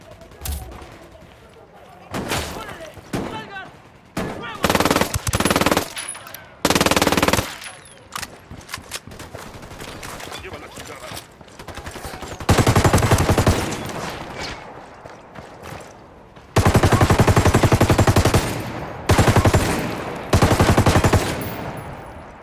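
Machine gun fire in Ghost Recon Wildlands erupts in loud repeated bursts, some short and some sustained for several seconds, with quieter gaps between them and occasional voices.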